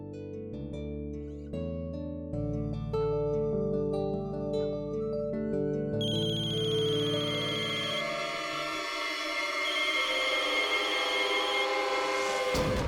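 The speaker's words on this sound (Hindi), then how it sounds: "जीत का फोन है ये" Telephone ringing in a Hindi TV drama scene, a loud melodic electronic ringtone playing its repeating tones on its own, with no voices.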